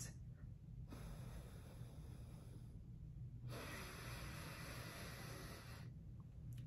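Slow breathing through one nostril, with long hissing exhales and inhales alternating at a steady, unhurried pace, close and clear.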